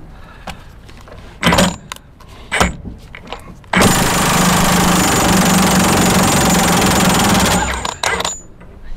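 A few short bursts of an impact wrench, then a long, loud continuous rattling hammer as it works steadily for several seconds to loosen a nut on a Bobcat T300 hydraulic lift cylinder.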